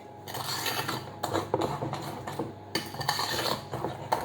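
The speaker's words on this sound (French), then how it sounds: "Voilà, et je remue." A spoon stirring vegan chocolate cake batter with vanilla in a bowl, with brisk repeated scraping and clinking strokes close by, pausing briefly between bursts.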